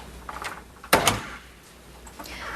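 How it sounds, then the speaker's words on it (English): A door swings shut with a sharp, loud thump at about the one-second mark, followed by a quieter room, with a faint click near the end. "Dr. Pinter, could you close the door, please?"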